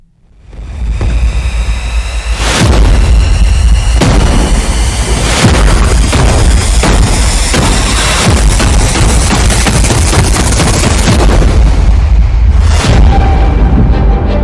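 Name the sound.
bomb explosion in Tel Aviv, news footage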